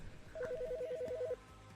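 A phone rings in a video game, a rapid electronic warble repeated about a dozen times in one burst, fairly close and clear, then cutting off to quiet room tone.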